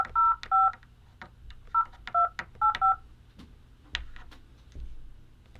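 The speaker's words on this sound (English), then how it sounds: "Let's dial it up." Telephone keypad tones dialed in three quick bursts of paired beeps, fairly close and clear, followed by a few faint clicks and handling noises.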